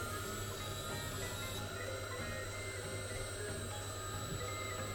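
A Shapeoko 3 CNC router cuts acrylic sheet at a lowered spindle speed, giving a steady, even mechanical whir and hiss that holds unbroken at moderate level.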